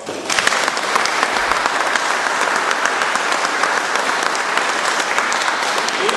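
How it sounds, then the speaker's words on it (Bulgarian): Sustained applause from an audience greeting the strongest armwrestlers of the 100 kg category at a pair-drawing event, dense steady clapping filling the whole stretch, loud and close, with no talk over it. "Моля аплодисменти за тях."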